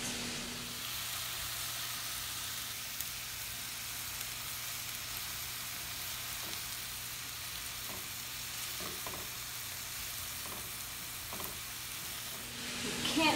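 Apple filling with spices and brown sugar cooks in a pan, a steady close sizzle and frying hiss throughout, with occasional faint stirring taps.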